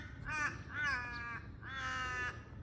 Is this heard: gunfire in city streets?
no